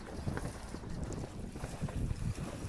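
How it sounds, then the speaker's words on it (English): Wind buffets the microphone near the start line of a sailboat race, a steady rough rush of gusts around 9 knots from the southeast, with water and boat noise beneath and no voices. "The wind's picked up just a little bit."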